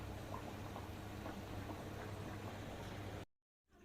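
Rice and chicken kabsa simmers in a single pot, a soft, steady bubbling hiss held close and even before cutting out into a short silence.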